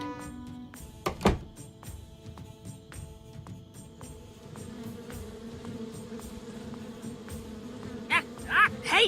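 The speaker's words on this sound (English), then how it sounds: "Stupid, greedy bees never want to share their honey with anybody." Bees buzz in the video game Kelvin and the Infamous Machine as a soft, steady insect drone over quiet game ambience, broken by a few thumps and sharp bursts of sound near the end.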